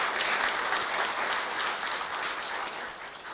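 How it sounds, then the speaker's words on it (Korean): An audience at a university staff retirement ceremony gives a warm round of applause, a steady wash of clapping that holds evenly and fades a little near the close. "다시 한번 큰 감사의 박수를 보내주시면 감사하겠습니다"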